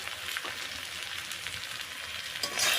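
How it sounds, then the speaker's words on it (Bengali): Spices with tomato and green chillies frying in a pan give a steady, close sizzle with soft stirring scrapes, swelling louder near the end, no voices. "ভালো করে আবার কষিয়ে নিয়ে"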